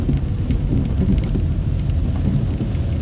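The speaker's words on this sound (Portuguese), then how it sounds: "Já são 8 horas da manhã e o pau d'água descendo." Heavy morning downpour in Rio Branco, Acre, after a night of rain: a loud, constant hiss and patter of rain hitting surfaces, with faint low rumbling beneath and no voices.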